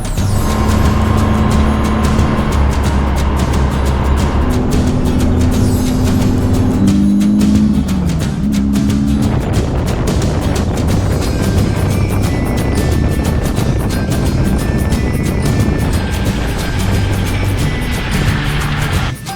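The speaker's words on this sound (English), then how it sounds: "the tires aren't going to rub anymore, but they are rubbing really bad" Steady, loud road drone from a VW Beetle overland build driving along, its tires rubbing against the fenders, a continuous engine-and-tire rumble with shifting tones and no break throughout.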